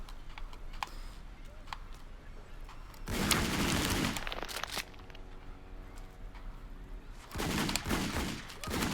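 A giant gun fires in the video game Just Die Already, letting out two loud, dense bursts of rapid shots. Quieter clicks and light tapping come between the bursts.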